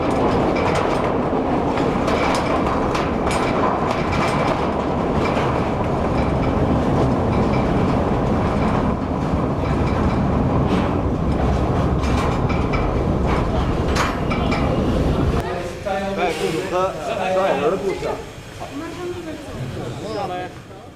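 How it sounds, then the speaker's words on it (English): A workers' train at the Sandaoling open-pit mine rumbles past continuously with clattering wheels, loud and close, then fades into quieter mechanical noise and brief squeaks near the end. "the workers' train now uses the route through the open pit."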